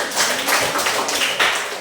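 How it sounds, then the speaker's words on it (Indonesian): A group of people gives a short, brisk burst of clapping for a participant, dense and fairly close for under two seconds. "kita tepuk tangan untuk Marici"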